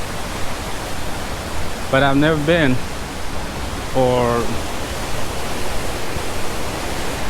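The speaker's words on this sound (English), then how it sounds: "I've visited very few times this waterfall in the rainy season" Jonha Falls near Ranchi in the rainy season gives a steady broad roar of rushing water that fills the whole clip, while a person speaks briefly over it.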